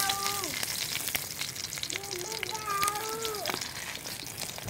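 Stuffed tomatoes frying in a pan give off a steady, even sizzle throughout, with a faint voice rising and falling in the background.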